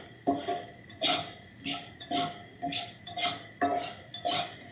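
Onions sizzle in a pan while being stirred for spaghetti meat sauce, with repeated scraping utensil strokes against the pan in a steady rhythm, close and clear over a low background sizzle.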